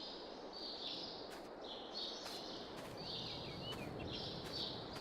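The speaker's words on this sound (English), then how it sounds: "Hear the birds? Yeah, the birds in the shed." Inside a shed in the Farming Simulator 22 video game, birds chirp in short repeated phrases with brief pauses between them. The calls are soft and sit over a faint hiss.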